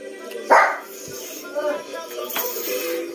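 A pet dog barks once sharply and close, followed by softer yips and whimpers, in a home setting where people are eating pancit canton with mozzarella.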